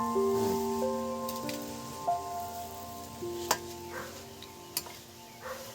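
A second batch of coriander-leaf fritters (jhal phuluri) fries in a pan of oil, giving a faint, steady sizzle with a few sharp pops and crackles scattered throughout.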